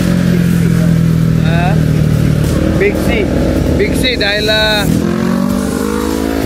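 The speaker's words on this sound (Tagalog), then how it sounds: "dito palagi parang naglalaro yung mga motor dahil maganda nga yung kurbada dito" Motorcycles run along the curves of Marilaque Highway in the Philippines, engine drone and passing revs sitting under close, loud talk from a man.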